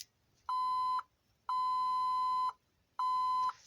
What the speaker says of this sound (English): Now it blinks and beeps 7 long times, because this is parameter 7.